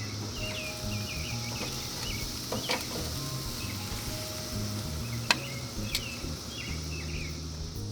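Pork chop fat sizzling directly over a flame, a faint, steady crackling hiss with occasional sharp pops, heard alone without talk.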